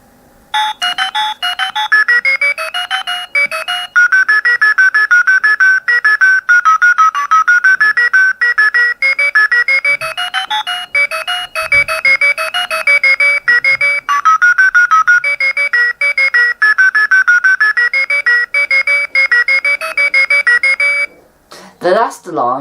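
An alarm tune from a Reflex talking watch plays as a loud, close electronic melody of quick beeping notes. It repeats steadily and cuts off near the end with a brief other sound.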